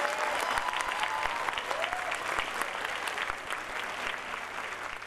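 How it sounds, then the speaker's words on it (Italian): Sustained audience applause fills a school Christmas concert hall, a dense steady patter of many hands at moderate volume, with faint voices scattered underneath. "Quindi un applauso ancora più forte."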